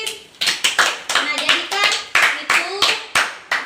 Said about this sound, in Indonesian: tepuk tangan dong buat Ririn.